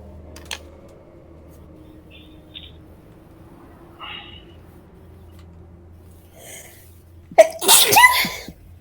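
A single sharp sneeze bursts out near the end after a quiet stretch with faint background hum and a few small clicks.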